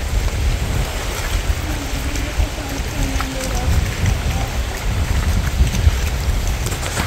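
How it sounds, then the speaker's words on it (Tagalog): Wind blows by the sea, a steady low rumbling buffet with gusty noise that fills the whole stretch, loud and close to the microphone. "Mahangin dito."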